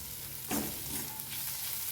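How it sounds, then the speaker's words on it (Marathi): Spices stirred into an ivy gourd (tondli) mixture in a pan, a quiet steady sizzle with one scraping stir and a couple of faint taps over two seconds. "हे सर्व मसाले मी ह्याच्यात टाकून घेतलेत आणि छान एकदा मस्त हलवून घेतलेत"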